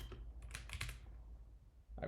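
Faint, quick keystrokes on a computer keyboard come in a short flurry, then a pause and a couple more taps, heard close and quiet.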